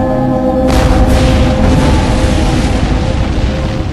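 A single heavy cannon shot bursts in as a sudden deep boom, then rolls on as a long rumbling decay that fills the rest of the moment.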